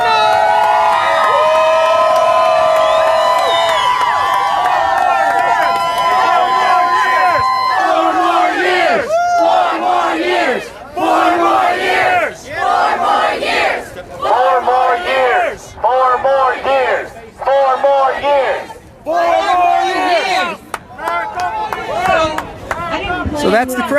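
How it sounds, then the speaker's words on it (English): A protest crowd outside the Maricopa County vote count facility cheers and shouts, building from a loud sustained roar into repeated rhythmic chanted bursts separated by brief dips, with many voices yelling close by. "So that's the crowd here at the Maricopa County voting facility."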